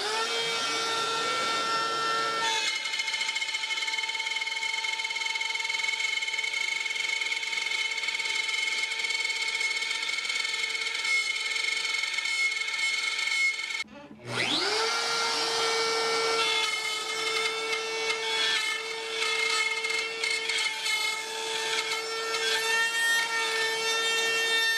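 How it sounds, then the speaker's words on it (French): A wood router cuts a groove into a woven-pattern cutting board, a loud, sustained high whine with a steady pitch that briefly cuts out partway through and then spins back up, with no speech. "Et je fais le chemin avec la toupie."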